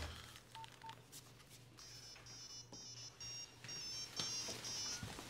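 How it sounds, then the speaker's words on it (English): Telephone keypad tones as a number is dialed, a run of short electronic beeps in an irregular sequence over a low background hum, with no talking. "You could always phone back the number the text message came from."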